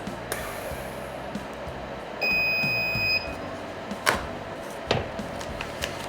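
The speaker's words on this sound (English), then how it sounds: "It's going to go ahead and send an alarm when it's finally done." A smoker's completion alarm gives a single steady electronic beep for about a second, fairly clear over a faint room hiss, followed by a couple of soft clicks and handling knocks. The smoker is an Amaze-N-Tube unit used for cold smoking cheese.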